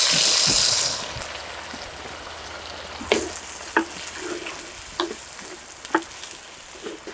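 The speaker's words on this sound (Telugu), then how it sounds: "నూనె వేడెక్కిందండి ఒక అర చెంచా మెంతులు ఒక చెంచా జీలకర్ర వేసేసుకుందాం వెంటనే కోసి పెట్టుకున్న ఉల్లిపాయ ముక్కలు వేసేసుకుందాం" Chopped onions hit hot oil with fenugreek seeds and cumin, giving a loud burst of sizzling that settles into steady frying crackle with scattered sharp pops and stirring clicks, close by and with no talking.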